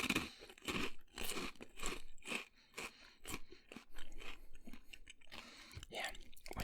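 Crisps being bitten and chewed close up, with a steady series of sharp, dry crunches, roughly one or two every second, continuing loud and unbroken for several seconds with no talking.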